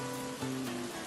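Cold rain pours steadily beside a roadside dhaba under a giant umbrella, a continuous hiss of drops on surfaces with a low tonal hum running underneath, no voices.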